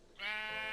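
A sheep in Minecraft lets out a single drawn-out bleat, starting abruptly and holding steady, close and fairly loud with no one talking over it.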